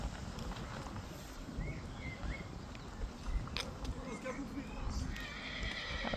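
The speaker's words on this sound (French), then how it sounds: "Ah ouais, c'est un cheval, il pense qu'à manger." An older horse with arthritis whinnies and its hooves clip-clop during an osteopathy session, with speech over the sounds and outdoor ambience throughout.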